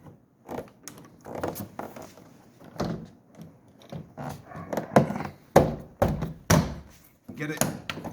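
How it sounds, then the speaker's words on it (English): A door trim panel is refitted onto a Mini Cooper S R53 passenger door, heard as close plastic thunks, clicks and pressing knocks, with a person talking between them. "I'm going to put the door trim back on now."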